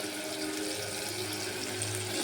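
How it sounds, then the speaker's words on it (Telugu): Water runs steadily into a pressure cooker of spiced gongura mutton curry, a soft continuous rushing pour lasting a couple of seconds with no talk. "మనకు సరిపడా వాటర్ వేసుకొని"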